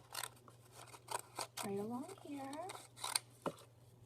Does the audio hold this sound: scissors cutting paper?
yes